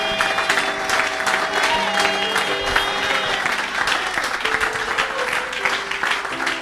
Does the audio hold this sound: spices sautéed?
no